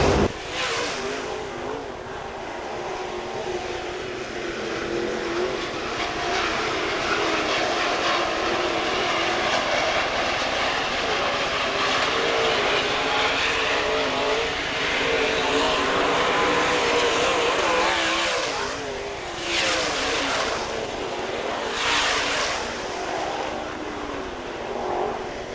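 IMCA Modified race cars roar through a heat at Fairmont Raceway, a dense, steady engine drone that holds loud throughout with brief surges near the end as the pack passes.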